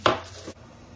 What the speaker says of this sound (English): I'm going to go ahead and start slicing up the rest of this bread